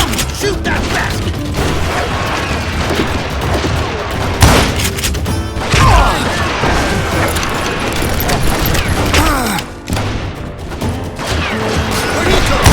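Gunfire in a Wild West shootout, dense busy mix with sharp bangs and mechanical clicks, several louder shots standing out near the middle, with shouted voices in the scene.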